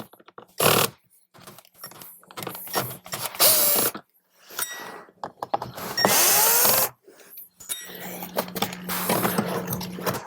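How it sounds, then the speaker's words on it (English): Phillips screws are backed out from below a 2018-or-later Jeep Wrangler JL steering column: short bursts of whirring driver and ratcheting clicks, close by, separated by quiet gaps and small plastic handling noises. "we're going to remove the Phillips screws on both sides below our steering column"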